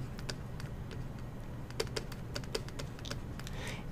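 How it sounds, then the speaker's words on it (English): A web address being typed on a computer keyboard in a steady run of light key clicks, with a few louder taps over a constant background hum and no talking. "They can go into their address bar, they can type, you know, perhaps webvpn.yourdomain.com."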